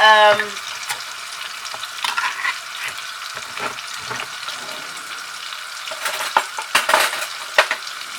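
A tomato fries in a pan for a home-cooked cabbage dish, with a steady soft sizzle, scattered utensil clinks and scraping stir strokes. A brief high tone opens it.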